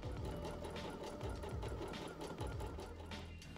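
Bernette b77 sewing machine running close up, a steady mechanical whir with a regular pulsing rhythm throughout, heard alone.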